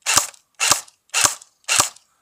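An AIMS AK-47 airsoft rifle with blowback fires four loud, sharp cracks in a steady semi-automatic rhythm about half a second apart, close by, with silence between shots.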